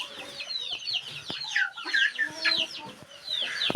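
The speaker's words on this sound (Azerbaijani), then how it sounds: "Başım gelir böyle kışkıran deli toyuqlardan." Hens cluck and squawk close by in a farmyard with goose eggs. The calls are busy and overlapping, with sharp squawks rising over the clucking, and they go on throughout.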